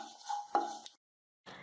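Fennel and cumin seeds dry roasting in a pan over a medium flame, stirred in brief scraping, rattling bursts that fall silent for half a second before another short burst.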